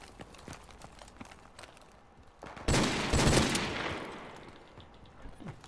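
Gunfire in a shooter video game: scattered distant shots and footsteps, then a loud close burst of several rapid shots that fades out, followed by quieter scattered sounds.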